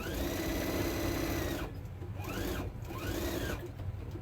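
A sewing machine stitches down a quilted sewing mat in steady, close whirring runs, with a brief pause before two shorter bursts.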